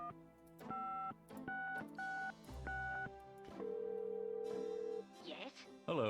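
A telephone is dialed in the Gabriel Knight: Sins of the Fathers adventure game, a quick run of electronic keypad tones at an uneven pace followed by a longer steady tone, with a voice briefly speaking near the end.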